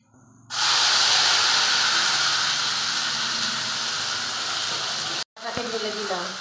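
Green chili and garlic paste hitting hot oil bursts into a loud, close, sustained sizzling hiss that starts abruptly and holds for several seconds before cutting off, followed by a brief voice.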